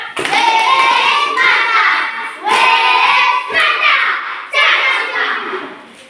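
Enthusiastic group applause, a crowd of many hands clapping in several loud bursts that swell and fade, with a few young voices mixed in.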